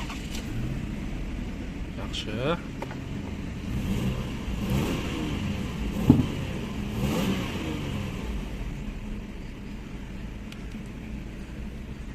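A 2002 Lexus RX 300 with 402,000 km on it and a check-engine light on, its engine running and revving with a mid-pitched rumble that rises and falls, while someone speaks briefly over it.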